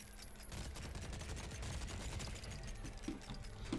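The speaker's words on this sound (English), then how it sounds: "God, this gun's hard to control." Rapid automatic gunfire in a first-person shooter video game, a continuous dense fusillade of shots held at an even level for several seconds.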